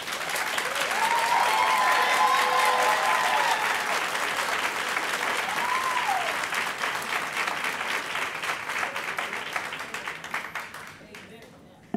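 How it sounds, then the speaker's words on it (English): Loud, sustained applause from a large crowd at a city council meeting fills the room for about ten seconds, with some cheering mixed in, before tapering off. "We appreciate the applause"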